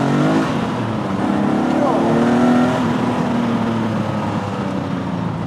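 A TVR T350C sports car's straight-six engine revs up hard accelerating in first gear, the pitch rising steadily, loud and close, with a brief shift midway.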